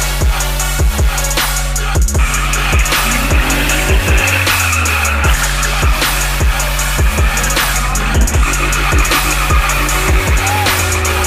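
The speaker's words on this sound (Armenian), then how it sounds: "Իսկ այն իրենից ներկայացնում է ցուցադրական Drift Show" Cars at a demonstration drift show in Yerevan run with loud engines revving repeatedly and tires squealing through sustained slides, a continuous roar with rhythmic throttle blips over several passes.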